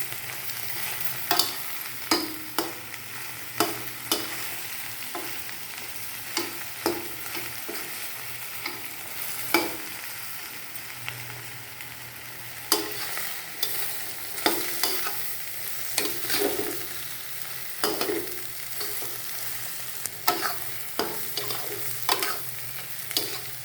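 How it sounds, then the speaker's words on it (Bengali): Green chilli pickle stirred and cooked in a pan with tamarind, giving a steady low sizzle broken by repeated scraping strokes of the spoon at an irregular rhythm, close and fairly loud, with no voices. "এবার আচারটা সুন্দর করে রান্না করতে হবে"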